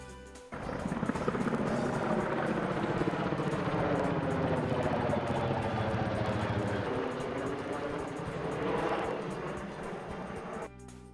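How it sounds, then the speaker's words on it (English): A steady, loud rotor and engine drone holds for about ten seconds, swelling slightly near the end as a helicopter carrying water for a wildfire passes overhead in the woods. "Now and then there would be a helicopter go over,"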